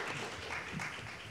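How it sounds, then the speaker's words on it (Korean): Audience applause at a policy seminar: a dense, even patter of clapping from a room of attendees, fairly distant and sustained for the whole moment. "큰 박수 부탁드리겠습니다"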